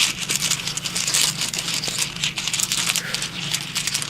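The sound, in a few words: runes being shuffled for a reading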